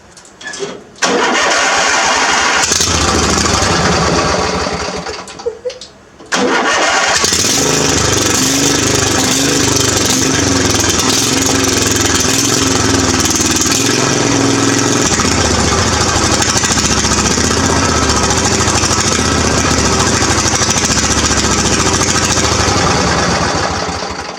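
A small engine with a new exhaust is cold started: it cranks, stalls briefly, then catches and runs loudly and roughly at a steady idle, close by, with no talking.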